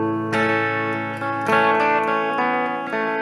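An electric guitar plays a riff through an effects unit with some distortion, sounding a short run of sustained, ringing single notes and a chord change, close and clear with no talk.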